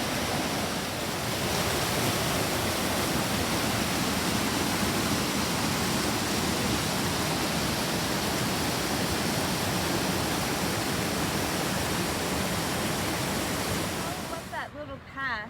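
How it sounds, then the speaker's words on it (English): A waterfall on a dog-friendly Washington State hiking trail roars as a steady, loud broadband rush close by, holding constant for most of the time before cutting off near the end. "I'm going to show you the bonus waterfall"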